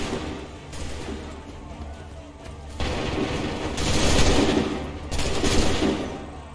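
Musket volleys in the Assassin's Creed III video game, several loud bursts of massed gunfire with booming rumble, arriving in waves a second or two apart over a noisy battlefield, with shouting voices mixed in.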